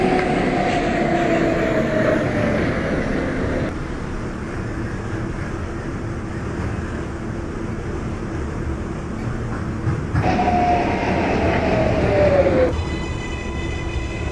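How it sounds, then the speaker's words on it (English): An R142 subway train on the Manhattan-bound 6 local in the OpenBVE train simulator game, a loud steady rumble of running gear with motor whines rising in pitch as it accelerates, heard close and continuous. "This is a Manhattan-bound 6 train."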